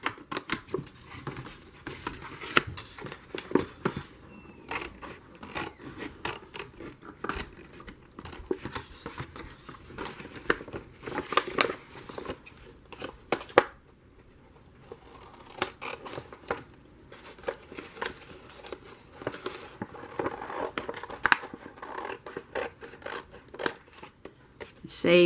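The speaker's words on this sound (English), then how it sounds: "I am going to cut off the sides to make it easier to deal with." Scissors snip through a brown paper bag to trim off its sides, a long run of close, crisp cutting strokes with papery crinkles and rustles, briefly pausing midway before resuming.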